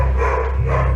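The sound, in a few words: dog barking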